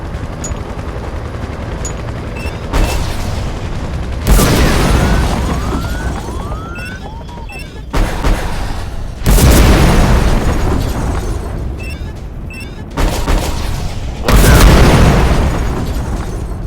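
Heavy explosions from missile strikes in the video game Shadow Strike, three or four big booming blasts spaced a few seconds apart over steady battle rumble and crackle.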